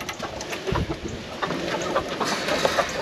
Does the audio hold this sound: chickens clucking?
yes